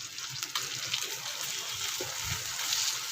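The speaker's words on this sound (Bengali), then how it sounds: "বাটিতে একটুখানি জল দিয়ে এই জলটাকে আমি এর মধ্যে দিয়ে নিলাম" Water poured from a bowl into chicken rezala in a pan, a soft continuous gushing splash, close but fairly quiet, with small clinks.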